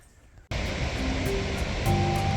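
Tahquamenon Upper Falls, a large waterfall on a tannin-stained river in Michigan, bursts in after a half-second of quiet as a loud, continuous broadband roar of rushing water.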